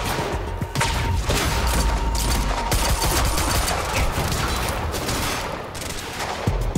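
Advanced SMG gunfire in Quantum Break, loud rapid bursts crackling near and almost continuously with short gaps, heavy impacts and booms mixed in, no talk.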